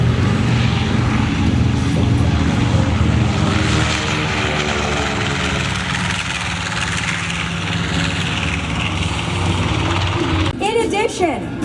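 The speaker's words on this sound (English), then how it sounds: "Now that Rosie is off the runway, we have the B-25. Take it off." A World War II B-25 bomber takes off at an airshow, its piston engines and propellers holding a loud, steady, droning roar throughout, ending in a rougher burst of noise.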